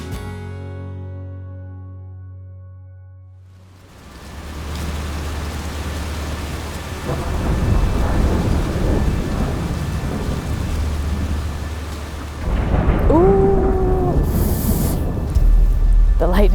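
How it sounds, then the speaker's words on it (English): A thunderstorm on a river trip, with deep rolling thunder and steady heavy rain that swells louder partway through, and a brief high tone near the end. "That was probably one of the most epic storms I've ever been in."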